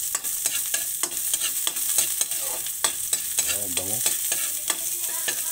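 Onion, garlic and ginger sauté together in a hot pan. Steady frying crackle runs under repeated stirring scrapes, and a brief spoken remark cuts in partway through.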